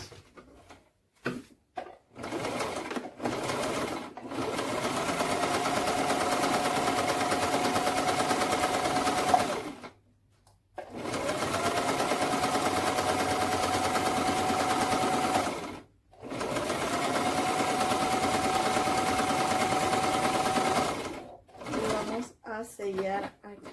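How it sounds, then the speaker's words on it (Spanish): Sewing machine stitching fabric, running in long steady whirring bursts of several seconds separated by short pauses, close and loud, with brief handling clicks at the start. "Bueno, ahora las vamos a coser."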